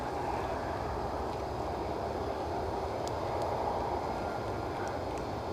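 At Edinburgh airport, a Ryanair jet arriving from Lanzarote gives a steady, distant broadband roar that holds evenly, faint against the background, with no speech.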